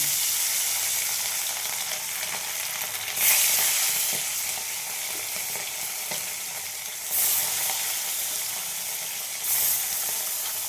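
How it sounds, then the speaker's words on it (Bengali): Bele fish fry in hot mustard oil in a wok, giving a continuous close crackling sizzle that swells into brief louder bursts of spattering a few times. "তেলটা গরম হয়ে গেছে, এবার আমি মাছগুলো ভেজে নেব।"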